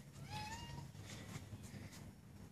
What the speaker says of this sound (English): Cat just came in.